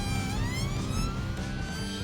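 A police traffic car's siren wails loudly and close, its rising and falling tone sweeping continuously without any talking.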